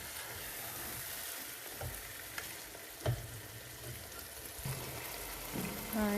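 Gluten-free chicken and spinach curry being mixed in a pan, a soft steady sizzle with occasional scraping stir strokes and brief clinks, fairly quiet and continuous.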